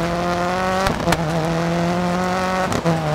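A rally car in the DiRT 4 game slows for a downhill gravel turn, its engine a steady, close drone broken by brief rough bursts just before and after the one-second mark and again near the end.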